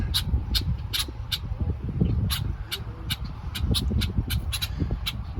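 A red-winged blackbird calls near its nest at a dock, sharp repeated chips and squawks at an uneven rhythm over a steady low rumble of wind or water.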